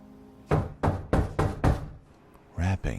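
Five firm knocks on a door in a horror film scene, evenly spaced and loud, followed by a brief low thud and a vocal sound.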